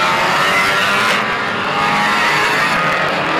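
1600 CC banger racing cars roar around a track during a heat, engines snarling together close by with a surge of revving, loud and continuous.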